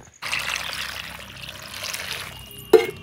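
Kaita (chichinda) gourd being rinsed under running water, a steady near splash and trickle that continues throughout and ends with a brief louder knock or splash.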